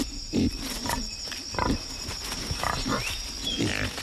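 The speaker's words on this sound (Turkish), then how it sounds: "İşte bir ırmak domuzu sürüsü." A herd of red river hogs grunts and squeals in short bursts over a steady insect drone in a Congo forest, the animals close and active.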